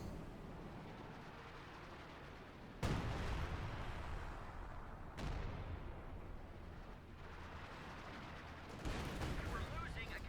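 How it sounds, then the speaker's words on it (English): Light machine gun fire and artillery from a Company of Heroes 2 match: dense, continuous bursts with a rumbling low end and sudden louder jumps, steady and distant-sounding throughout. "Rifleman hosting away there with the light machine guns."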